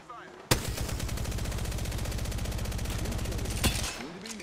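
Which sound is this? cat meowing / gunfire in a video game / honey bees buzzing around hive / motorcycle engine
gunfire in a video game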